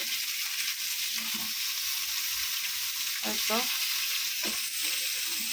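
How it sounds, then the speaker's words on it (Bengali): Katla fish frying with tomato in hot oil gives a steady, even sizzle throughout, with a few faint clinks and stirring sounds near the end and no speech. "আর এই তো কাতলা মাছ দিয়ে টমেটো দিয়ে রান্না করবে।"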